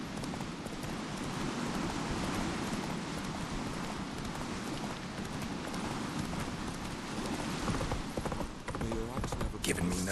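Hoofbeats of Geralt's horse Roach galloping in The Witcher 3, a steady fast clip-clop running continuously under dense game noise, with a voice calling out near the end.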